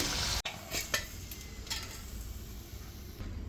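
Mini samosas made from poori dough frying in oil and being lifted out, a dense close sizzle with a sharp utensil clack near the start and light scraping strokes after.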